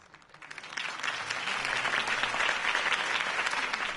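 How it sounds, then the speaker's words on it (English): Crowd applause in a Batman video game swells up quickly and holds steady, a dense wash of clapping that continues to the end. "could have heard that applause"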